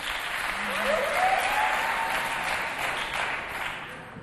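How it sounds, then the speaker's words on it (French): TV studio audience applauding at a Chadian variety show, a dense broadband clatter of clapping hands that swells and holds steady for about four seconds, with a brief faint tone and no clear talk over it. "Applaudissez très très fort pour vous s'il vous plaît."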